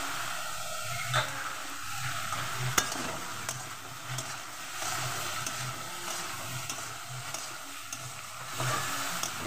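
Bengali beto greens (bathua) stirred and fried in a pan with salt and turmeric: a steady low sizzle with repeated scraping strokes of the spatula at a regular rhythm, close by and moderately loud, with no talking.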